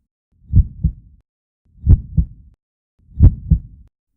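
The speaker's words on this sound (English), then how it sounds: "My heartbeat grew louder and louder" Three evenly spaced double-thump heartbeats, deep and muffled, each pair a strong beat followed quickly by a softer one, with silence between.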